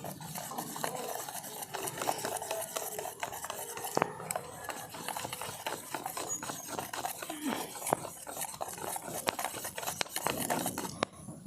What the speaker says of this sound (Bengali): এবার সব কিছু আমি একসঙ্গে খুব ভালো করে মিশিয়ে নেব